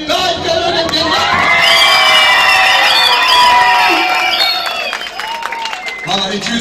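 A wedding crowd applauds and cheers loudly and continuously, with whoops and shouts over dense clapping, and voices mixed in near the end.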